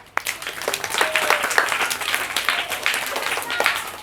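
An audience claps loudly in a dense, sustained round of applause for a student in a motivational session, beginning abruptly and continuing steadily to the end.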